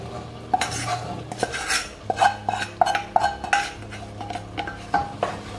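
Cooked black-eyed beans being stirred into pumpkin curry, with a ladle repeatedly knocking and scraping against a metal pot in an uneven rhythm, close and clear, no talking.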